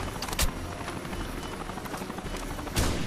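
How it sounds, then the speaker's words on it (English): A helicopter in the Rainbow Six: Vegas 2 video game gives a steady, broadband rotor roar throughout, with a few sharp louder bursts at moments. "Why is there a helicopter here?"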